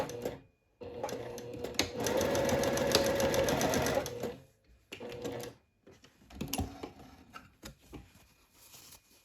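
A sewing machine bastes a seam on a seersucker dress in two bursts of rapid, even stitching, a long run and then a shorter one, with quiet handling noises in the pauses.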